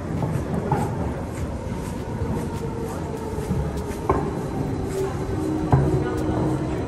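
A train to Jungfraujoch in Switzerland rumbles with a continuous rolling noise, and a couple of clear clunks and clicks sound partway through, with faint voices in the background.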